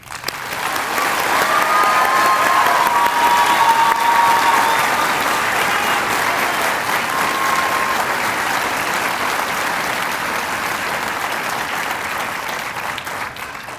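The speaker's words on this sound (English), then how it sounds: "Please join me in applauding these men and women for their accomplishments." A large audience at a Corrections Academy graduation for Class 100 recruits claps in dense, sustained applause that swells early and keeps up a steady roar, with faint crowd sounds but no clear voices.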